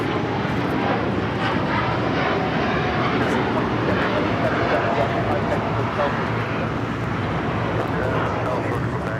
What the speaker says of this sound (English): This is United Airlines Flight 32 taking off to Tokyo Narita on the 787-9 Dreamliner.